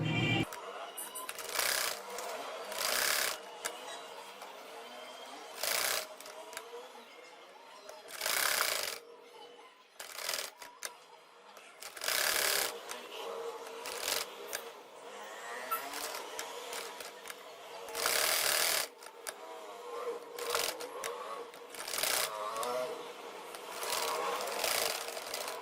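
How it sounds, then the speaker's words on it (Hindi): A sewing machine runs stitches along the outer side of a shirt neckline in short, intermittent bursts of rapid mechanical chatter, close by, with quieter handling noise between runs. "ये देखिए, अब हम इसको सिलाई लगाने लगे हैं बाहर वाली साइड पर।"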